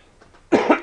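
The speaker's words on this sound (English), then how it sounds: "Sorry about the coughing, been a little bit sick lately." A person who has been a little sick coughs during a blitz chess game: a quiet stretch, then a close, loud burst of two or three rough coughs.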